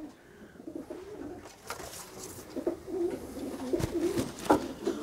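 Pigeons coo in soft, repeated throaty calls, close by, rising a little in loudness toward the end against a faint background.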